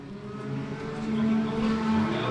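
A race car loops around on a local dirt oval at Jackson County Speedway during a heat race, its engine droning loud and steady with a rising roar and a sustained tonal whine as the car spins out.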